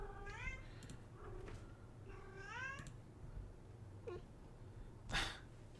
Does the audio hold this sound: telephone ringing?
no